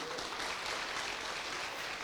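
An audience applauds members of a bike achiever club, dense continuous clapping from a crowd at a steady level throughout.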